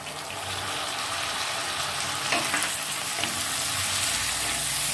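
Onion and chopped tomato frying gently on low heat in a pan while preparing an egg and poppy-seed dish, a continuous soft sizzle and crackle with faint stirring, no one speaking.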